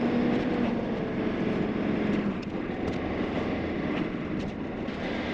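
A 1984 Ford F250 with the 6.9-litre engine pulls away in first gear while towing a trailer, giving a loud, close, continuous low engine rumble with rattling undertones and no speech.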